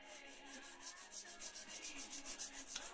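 Hand file rubbing back and forth across an acrylic nail in steady, quick rasping strokes, close and fairly quiet, with no talking.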